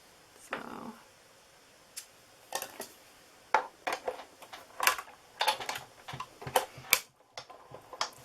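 Cutting plates are cranked through a manual die-cutting machine, giving a close series of sharp clicks and ratcheting ticks in an uneven rhythm with brief pauses.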